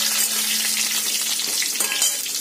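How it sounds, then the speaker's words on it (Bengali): Potato pieces fry in hot spiced oil in a pan, giving a close, continuous crackling sizzle with occasional stirring scrapes and no talking. "আলুটা একটু ভেজে নেব।"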